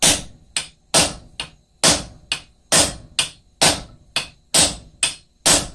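Hot metal bar upset by hammer blows on an anvil, struck in a steady rhythm of about fourteen loud, ringing impacts, close and without talk.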